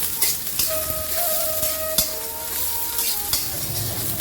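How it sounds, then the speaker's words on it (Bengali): Garlic, onion and dried chilies frying in oil before jute leaves go in, a steady close sizzle with spatula scrapes, clinks against the pan and faint tonal squeaks, no talking. "রসুন পেঁয়াজ এবং শুকনো মরিচ যখন একটু ভেজে লাল লাল হবে তখনই আমি শাকটা দিয়ে দিব"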